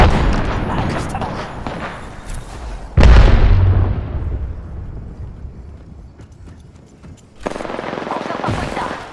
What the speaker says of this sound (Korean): 세열 수류탄 공격